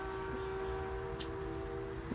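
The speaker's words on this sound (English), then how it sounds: "Choo choo train in the back." A train passing in the background near an axe-throwing practice area, a steady droning rumble with a sustained horn-like tone, continuous and moderately distant with no talk.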